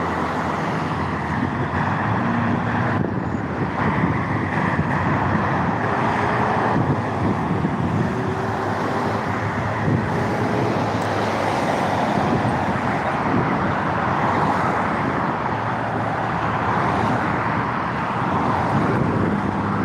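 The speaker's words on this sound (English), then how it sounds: "I see a couple of big old buses coming up through there" A pair of big buses travel along a road amid steady traffic, their low rumble continuous and fairly loud, rising slightly as they pass, with no voices.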